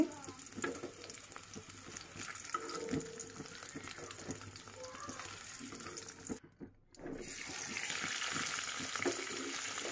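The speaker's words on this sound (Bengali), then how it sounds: "আলুগুলো এইভাবে লাল লাল করে আমি ভেজে নিব" Potatoes frying in oil for vegetable khichuri, a quiet steady sizzle with scattered crackles and faint stirring, briefly dropping out before resuming a bit louder.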